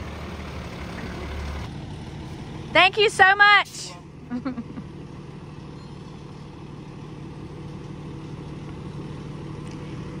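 A truck delivering fertilizer rumbles steadily at a distance, its low engine drone running throughout while a person speaks briefly over it.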